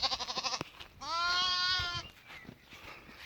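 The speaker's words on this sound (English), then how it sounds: "The little lambs." Lambs bleating on a farm field with fruit trees: a rapid run of short wavering bleats, then one long drawn-out bleat, fairly close and moderately loud, with quiet outdoor background between calls.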